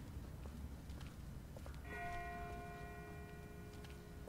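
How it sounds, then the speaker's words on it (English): A distant bell rings in The Walking Dead video game, a single clear metallic strike partway through that hangs and decays slowly over a quiet, noisy outdoor background. "That's not the same bell as before. This one's further off."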